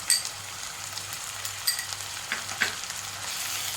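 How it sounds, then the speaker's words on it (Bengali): Ginger and garlic paste frying in a pan, a steady close sizzle broken by a few sharp spoon scrapes and clinks against the pan, with no voices. "এবার ভালো করে একটু ভেজে নিতে হবে যাতে আদা রসুনের কাঁচা গন্ধটা চলে যায়।"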